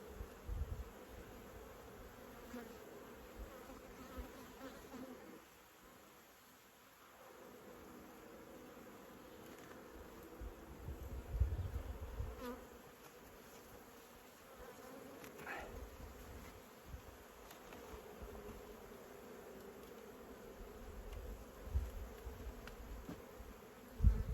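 Honey bees in a queenless hive drone in a steady, dense buzz heard close up, rising and dipping slightly in loudness, with no voices.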